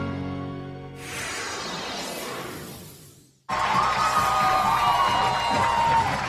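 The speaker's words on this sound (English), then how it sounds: "to say the crowd goes crazy would be an understatement tonight here on the Hill" A crowd at a high school football game, Piedmont at Walter Wellborn, cheers and roars in a loud, sustained swell. The noise breaks off abruptly, then resumes at full volume.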